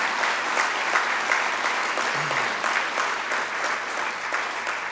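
Sustained audience applause at a Hall of Fame athletics banquet, honoring the master of ceremonies; dense, steady clapping from a large room throughout, with no talk over it.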